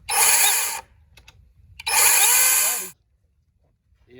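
A Kobalt 24-volt cordless electric pole saw with an 8-inch bar whirs up in two short bursts, each about a second, loud and close with quiet gaps between.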